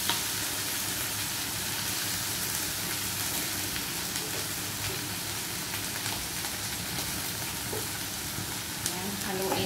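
String beans for adobong sitaw fry in a hot pan and get stirred, a loud continuous sizzle and crackle that stays close and steady throughout, with occasional light scraping.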